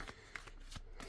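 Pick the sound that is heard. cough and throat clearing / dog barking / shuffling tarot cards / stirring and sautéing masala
shuffling tarot cards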